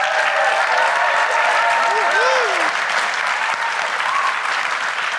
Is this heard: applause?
yes